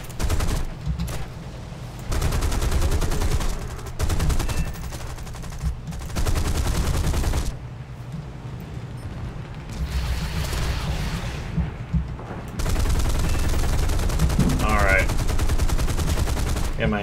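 Tank machine gun fire in War Thunder's ground battles comes in repeated rattling bursts separated by short gaps, loud and close, with brief talk in places.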